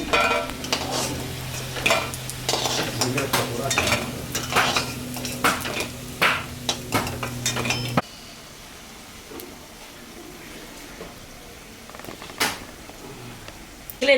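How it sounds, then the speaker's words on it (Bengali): Ridge gourd (chichinga) pakoras frying in hot oil, with busy stirring and scraping of utensils for about eight seconds before the sound drops to a quieter background with an occasional clink. "আমি চিচিঙ্গার পকোড়া ভাজলাম"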